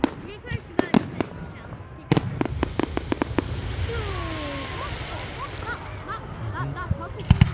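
Bonfire Night fireworks in Elgin, 2022, bursting in sharp loud bangs and crackles, clustered early then scattered, with whistling rockets rising mid-clip over a steady crowd hubbub and voices nearby.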